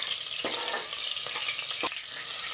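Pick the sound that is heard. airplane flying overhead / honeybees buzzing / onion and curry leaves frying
onion and curry leaves frying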